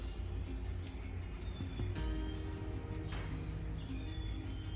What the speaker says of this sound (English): just enjoy the hum, the sounds of the birds, the cooing